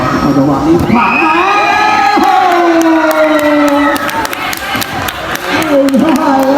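A large crowd of supporters at a football match in Thailand erupts in loud cheering and whooping, rising sharply and holding for several seconds, with a commentator talking over the noise.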